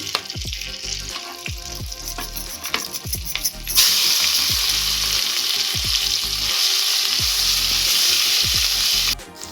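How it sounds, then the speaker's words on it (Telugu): Onion paste fries in a pan for an egg curry masala, a steady loud sizzle with repeated stirring scrapes that swells sharply partway through and runs without talk before cutting off near the end. "ఈ ఉల్లిగడ్డ పేస్ట్ ఫ్రై అయిపోయింది కదా"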